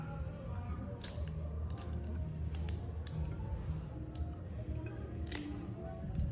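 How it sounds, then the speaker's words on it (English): A cooked crab shell is pulled apart by hand, giving close, crisp clicks and small cracks scattered irregularly over a low rustle, with a few sharper snaps standing out. "And then you just kind of peel it apart."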